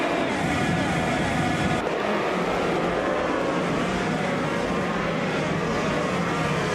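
Roaring engines of 2018 Honda Indy cars racing, a steady loud drone with a sharp shift partway through, then continuous high-pitched engine whine sustained throughout.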